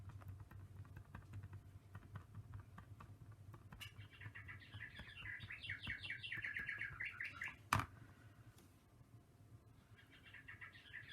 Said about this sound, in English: It's just my bird clock.